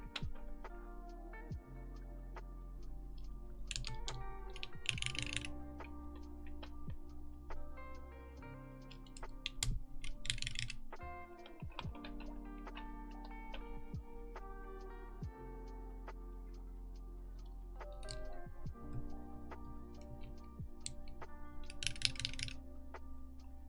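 Keys on a CW88 mechanical keyboard clack in scattered bursts and single taps, close-up over a steady low hum, with short pauses between runs of typing.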